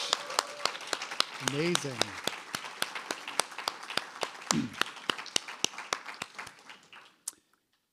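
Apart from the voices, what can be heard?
audience applause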